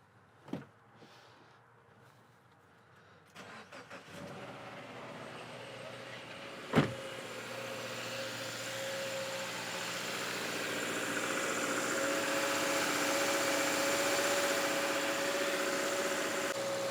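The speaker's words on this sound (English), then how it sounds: "Let's go ahead and start the engine" A couple of sharp clicks, then a Subaru Forester engine treated with K-Seal sealant turns over and settles into a steady, low idling hum that continues to the end.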